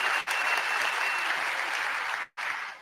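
A crowd cheers and applauds at the finish of a race, a dense steady wash of clapping held loud and close, broken by a brief dropout near the end.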